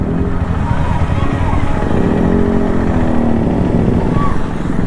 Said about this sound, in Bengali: ভাই এখানে আমার বাইকের সাউন্ড